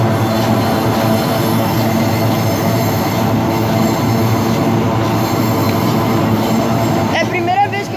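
A GE AC44i Wabtec locomotive hauling new freight wagons passes at night, a loud, steady rumble of wheels on rail that fills the whole stretch, with brief wheel squeal near the end.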